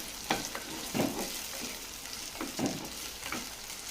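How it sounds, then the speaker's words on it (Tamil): Shallots, garlic and curry leaves sauté in sesame oil, a steady moderate sizzle broken by several scraping stirs of a spoon, heard up close with no talking. "இப்போது ரெண்டையுமே நல்லா சேர்த்துட்டு வதக்கி விட்டுக்கலாம்."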